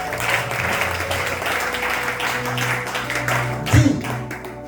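A worship congregation applauds and cheers in acclamation of Jesus of Nazareth, a dense spell of clapping under voices and music, with one louder thump near the end.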